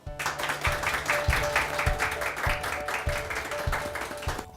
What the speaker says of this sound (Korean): 여러분들 수고했는데 큰 박수 한번 쳐주세요.